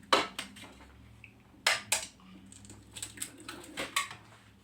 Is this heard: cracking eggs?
yes